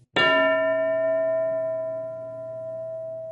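A classroom bell struck once, a bright metallic clang that rings on with a long, slowly fading sustained tone and no voices.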